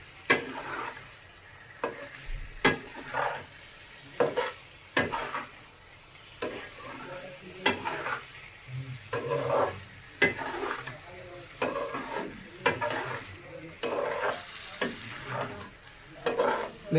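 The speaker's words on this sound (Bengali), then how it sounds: "এবার আমরা এটাকে ভালো করে মিক্স করে নেব" Boiled jackfruit and potato pieces being stirred into a sizzling fried spice paste for a Bengali echor kalia, with repeated sharp spoon scrapes against the pan over a steady frying sizzle, close and clear.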